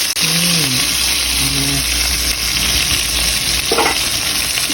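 Phayao fermented fish fries in oil with a loud, dense, unbroken sizzle and spattering crackle up close, while someone speaks briefly near the start.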